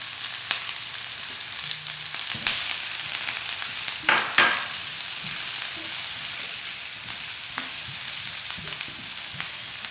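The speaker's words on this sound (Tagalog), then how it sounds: "pinapainit ko ulit itong wok dahil oras na para igisa natin itong sibuyas at bawang" Chopped onion and garlic sizzle steadily in a hot wok, a bright continuous frying hiss with occasional clinks and scrapes of stirring, no talking.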